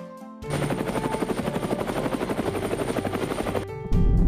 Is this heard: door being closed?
no